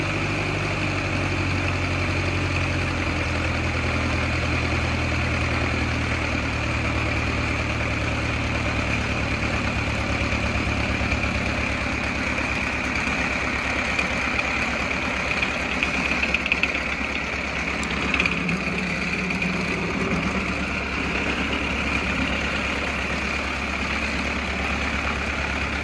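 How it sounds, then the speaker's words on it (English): A 1909 Ford Model T engine, run without transmission or magneto, idles steadily for a long stretch with a low, even rumble and a faint rhythmic knock, close and constant. "First running of the engine, it had no transmission, no magneto."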